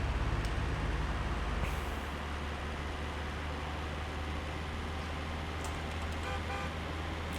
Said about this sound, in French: Je klaxonnais pour notre salarié.